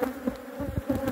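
A defensive swarm of honeybees buzzes continuously and close, a dense droning hum with a few louder passes near the ear, while a bee smoker is in use nearby.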